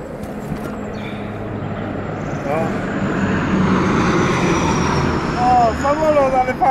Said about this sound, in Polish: Samolot, ale fajnie.